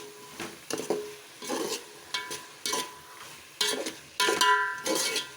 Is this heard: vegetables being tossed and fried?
yes